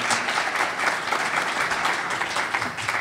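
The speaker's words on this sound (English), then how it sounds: "Please give them all a round of applause." An audience at a Congressional Black Caucus voting rights conference applauds its panelists with steady, dense clapping throughout, loud and filling the room.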